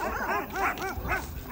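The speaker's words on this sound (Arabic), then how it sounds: "شايفين سامعين الكلاب؟" Several dogs bark and yip in a close, noisy outdoor scene, with overlapping barks repeating rapidly against constant background noise.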